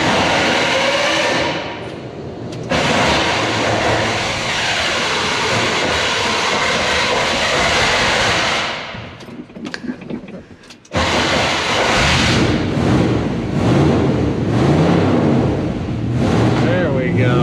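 The engine of a 1975 Chevrolet K10 truck starts for the first time after sitting 18 years. It roars loudly and roughly up close, dips and sputters briefly, then catches and runs loud again.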